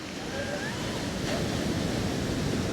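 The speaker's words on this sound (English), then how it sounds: "Maybe taking in the sound of the waves." Ocean surf breaks near a seaside yoga session, a steady broad wash of rushing water with some wind, moderately loud and continuous, with no voices heard.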